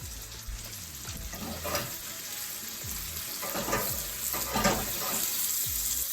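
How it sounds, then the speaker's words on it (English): Chopped onion with garlic sautés in rendering fat in a pan, giving a steady soft sizzle and crackle with occasional stirring clatter, moderately close and with no talking. "I'm just gonna saute this onion, let the fat render."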